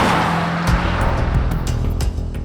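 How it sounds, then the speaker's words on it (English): The new Mercedes-AMG C63 accelerates with a steady, fairly loud engine drone and rising revs, with a brief tire scrub near the start and no talking over it. "it's just not an exciting engine sound"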